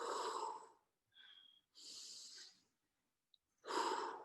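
Slow, deep breaths during an exercise break, heard as long, close inhales and exhales with quiet pauses between them.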